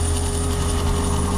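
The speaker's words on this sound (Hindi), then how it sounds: "हेलीकॉप्टर" A helicopter drones steadily and loudly throughout, with a constant low rotor and engine rumble and a high whine, and no pauses.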